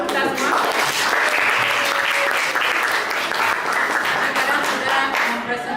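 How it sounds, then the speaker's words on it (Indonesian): Students in a classroom break into loud, sustained clapping that runs steadily throughout, with voices mixed in beneath the applause. "Tepuk tangan dulu untuk kita semua."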